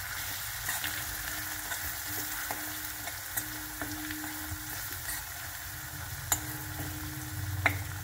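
Spices with red chilli powder fry in a pan for chole, making a soft continuous sizzle with scattered ticks and taps as a spoon stirs, fairly quiet and with no talking.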